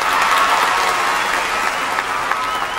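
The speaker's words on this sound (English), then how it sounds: "Let's give our team another round of applause," Dense, sustained applause from a large audience for a karate team at a martial arts demonstration, an even wash of many hands with a faint crowd murmur, no speech.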